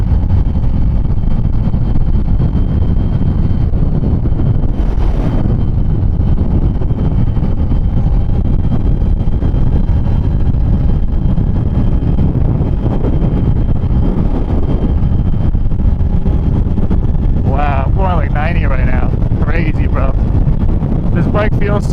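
A 2025 Kawasaki Z900 motorcycle rides through fog, its engine drone buried under heavy wind rush that never lets up, and a rider talks over it toward the end.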